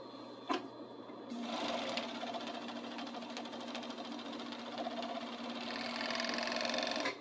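A serger sewing machine runs close up, stitching fairly straight seams on a jeans back pocket: a quick rhythmic mechanical whir that starts after a brief click, holds steady and rises slightly near the end, without speech.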